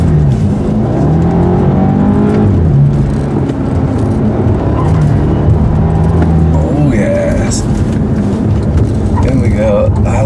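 A 2015 BMW Alpina B6 Gran Coupe with all-wheel drive powers hard around a racetrack, its engine note loud and sustained throughout while a driver talks over it.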